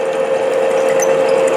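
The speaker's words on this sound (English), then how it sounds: "Let the drill do the work." A power drill whirs steadily at a constant pitch while boring into metal during a whistle-building project, close and loud with no talk over it.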